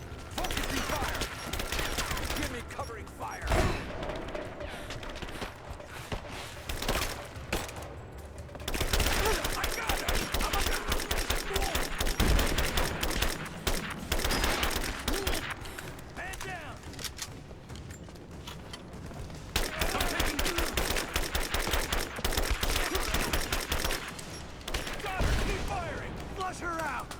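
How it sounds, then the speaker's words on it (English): Gunfire in Rise of the Tomb Raider, sustained rattling volleys of automatic fire in bursts with short pauses, mixed with shouted voices of enemy soldiers. "Give me suppressing fire now!"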